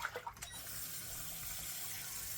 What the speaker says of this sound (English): Let me go ahead and rinse this bowl out.